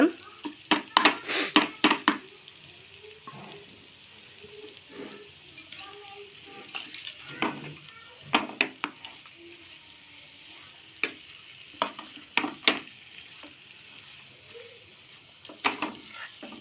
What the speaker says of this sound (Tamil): நெய் விட்டு நல்லா கலரி விட்டுருங்க